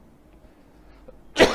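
One short, loud cough bursts out near the end, close up, after near silence.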